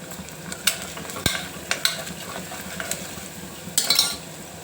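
Ginger garlic paste with turmeric frying in a pan for a cluster bean masala curry: a steady low sizzle runs throughout, broken by scattered spoon scrapes and clinks against the pan, with a brighter flurry of stirring near the end.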